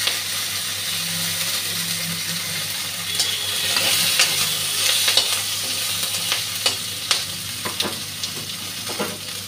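Panch phoron spices with dry red chilli, bay leaf and green chilli frying in hot oil, a steady close sizzle broken by sharp spatula scrapes and taps against the pan, over a faint background hum.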